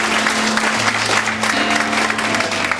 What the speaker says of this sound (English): Give God a hand clap of praise today.